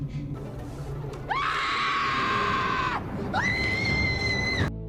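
A woman in a horror film lets out two long, loud, high-pitched screams, the first held about two seconds, the second after a short pause, over a low background rumble.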